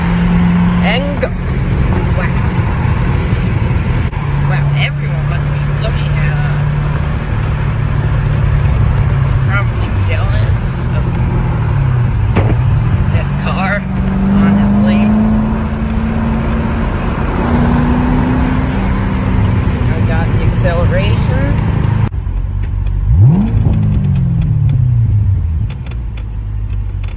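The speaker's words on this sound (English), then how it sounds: "we just went through a tunnel, so you can get more of the sound of the car." A custom 2009 Chevrolet Corvette C6 engine drones loudly from inside the car while driving through a tunnel, a deep, steady rumble whose pitch slowly rises and falls with the throttle before easing off near the end.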